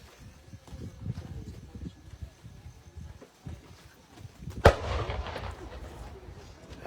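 A 105 mm howitzer fires during a combined arms brigade exercise in Dinapigue, Isabela, with one sharp, loud boom partway through followed by a rumbling tail, amid outdoor background noise and distant activity.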